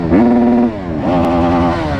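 Close, loud revs from a Honda motorcycle engine, a sharp rising blip that holds, dips, then climbs again into a second sustained rev, raspy and strong.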